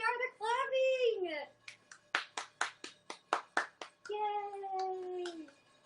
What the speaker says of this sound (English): There they are, they're clapping!